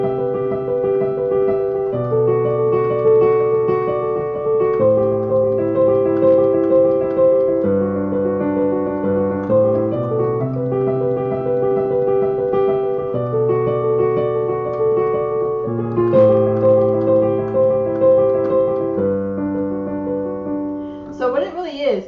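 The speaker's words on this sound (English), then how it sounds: "I'm going to show you how to do the very famous beginning part where it sounds something like" Piano plays the opening of a song, with sustained chords rolling through a slow, steady progression, clear and close, alone without talk.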